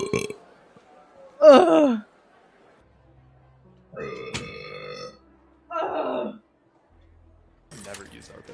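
A girl lets out a series of short, loud burps, about five separate bursts spaced by pauses, some croaky and some higher and voiced, with faint background noise between them.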